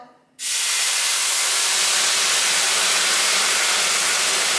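Low-sodium vegetable broth poured into a hot, oil-free fry pan bursts into a sudden loud sizzle, then keeps up a steady, close, roaring hiss.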